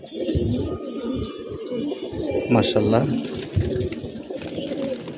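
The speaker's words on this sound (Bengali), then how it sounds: "এগুলা সব ঘরের কবুতর।" Pigeons kept in a home loft coo in low, rumbling bursts under a voice. The talk is close, with a brief brighter flutter-like sound midway through.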